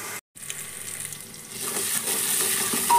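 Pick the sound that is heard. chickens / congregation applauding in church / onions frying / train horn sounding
onions frying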